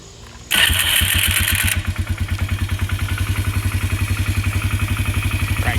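A Polaris four-wheeler ATV with a freshly repaired carburetor cranks on the starter, catches at once and settles into a steady, close, rapidly pulsing idle with a rattly mechanical edge.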